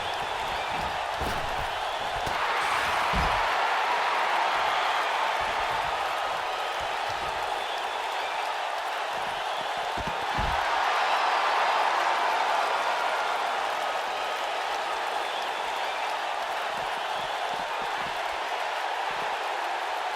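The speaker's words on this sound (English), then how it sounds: "by the sound of this crowd, I think they're getting what they wanted" A large video game crowd roars steadily from a distance at a WWE 2K19 Hell in a Cell championship match, swelling louder twice, with occasional dull thumps underneath.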